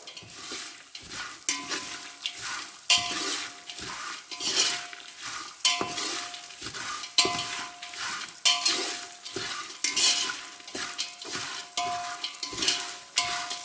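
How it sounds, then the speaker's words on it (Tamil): Kara pori (a spiced puffed snack) being fried in oil with salt and stirred in a pan: a close, steady sizzle broken by repeated rhythmic scraping and clinking stir strokes throughout. "தேவையான உப்பு போட்டு நம்ம நல்லா இது எண்ணெயில் வறுக்கலாங்க"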